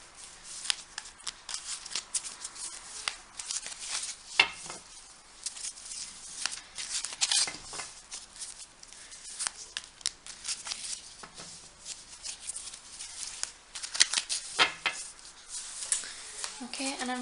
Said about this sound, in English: just going to give these a shuffle.